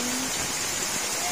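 Heavy rain falls as a steady, dense hiss beside a chicken coop, even and unbroken, with no distinct drops standing out.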